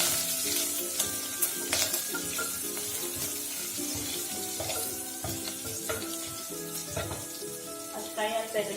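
Green chillies sizzle and fry steadily in a pan, a continuous crackling hiss with light stirring knocks and occasional clinks throughout.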